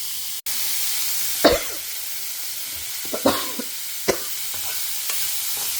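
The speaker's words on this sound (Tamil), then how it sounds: "நல்லா வதங்கட்டும்." Vegetables with asafoetida sauté in a pan with a steady, close sizzle throughout, broken by a few sharp scrapes and knocks from stirring.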